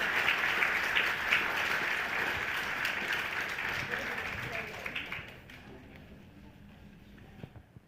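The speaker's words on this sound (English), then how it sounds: "Let's give all our new members an applause, a round of applause." A congregation applauds new members at a Unitarian Universalist gathering in Sarasota, the clapping dense and steady at first, then thinning out and fading toward the end.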